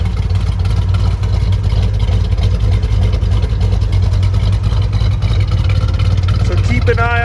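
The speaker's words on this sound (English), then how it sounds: "Awesome sounding muscle exhaust." A 1970 Mercury Cyclone GT with a 429 Cobra Jet V8 gives a deep, steady engine rumble with a throaty exhaust note, idling continuously, loud and close, barely changing throughout.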